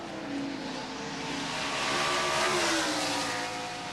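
NASCAR stock cars roaring around Watkins Glen on the final lap of the 1986 Budweiser at The Glen, a steady engine drone with a rising and falling pitch as cars pass at moderate distance.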